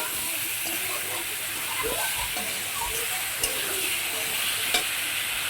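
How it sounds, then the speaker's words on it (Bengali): Vegetables fry in a pan with a loud, continuous sizzle and hiss, while occasional scrapes and clatters from stirring break through the frying. "তো এখানটায় আমি ভেজে নিচ্ছি সবজিগুলো।"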